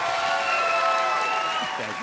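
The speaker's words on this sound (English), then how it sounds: "Clap it up." A live podcast audience at a political show applauds and cheers, a dense, sustained wash of clapping with a high tonal sound running through it and a voice near the end.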